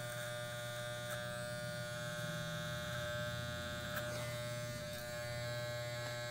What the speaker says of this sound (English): So we're just touching the neck, and then we're going to shave to it.